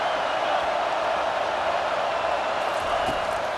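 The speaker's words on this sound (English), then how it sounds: "listen to the roar of this crowd" Stadium crowd roar in the video game EA Sports College Football 25, a steady, loud wash of crowd noise filling the whole clip with no pauses.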